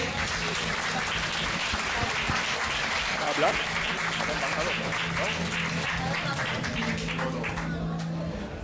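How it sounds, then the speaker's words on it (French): An audience applauds an ambassador at an international communist gathering, a dense, steady wash of clapping that holds for several seconds at even strength, with a low hum and some voices mixed in underneath. "Un applaudissement s'il vous plaît."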